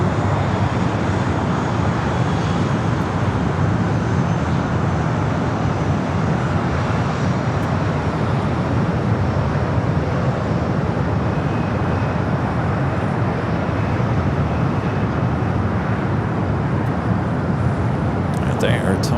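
A jet airliner taking off from runway 25 Right at Los Angeles International Airport, a steady, loud broadband engine roar that holds throughout without pause.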